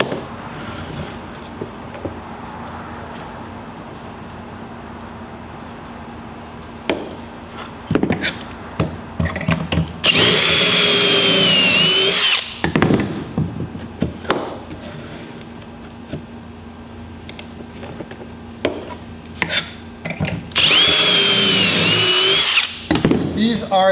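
A power drill bores pocket holes into wood for a children's bookcase top, two loud sustained bursts of whirring drilling separated by quieter workshop handling and clatter, close to the microphone.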